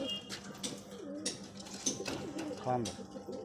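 Low rolling coos from standing Kalasabuj fancy pigeons sound up close and continuous, partly covered by a voice talking over them.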